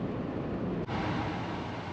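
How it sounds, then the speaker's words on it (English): Strong wind roars steadily, buffeting the microphone with a constant rumbling rush and one brief dip. "extremely windy out there today."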